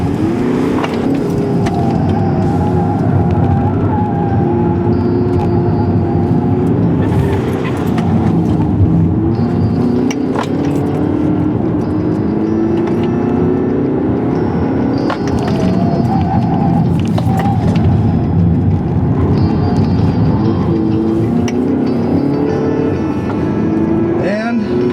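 A diesel Audi engine drives hard around a race track, its steady low drone rising and falling with acceleration through slow corners, loud and continuous throughout, with a voice talking over it.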